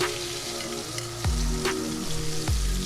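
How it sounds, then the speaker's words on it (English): Salmon sears in a tablespoon of olive oil in a pan, a continuous close sizzle broken by a few sharp clanks and thumps of the pan. "we're gonna go ahead and add a tablespoon of olive oil. And we're gonna go ahead and get our salmon in"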